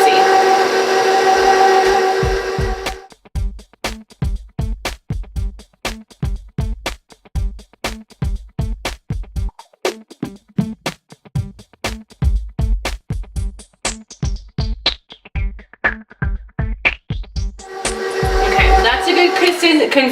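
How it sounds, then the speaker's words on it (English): An electric hand mixer whips mashed potatoes as milk is added, giving a loud, steady motor whir broken into rapid rhythmic pulses that run throughout, with speech at the start and end. "we're just going to turn it on and add it slowly and let it mix until we feel like it's a good consistency"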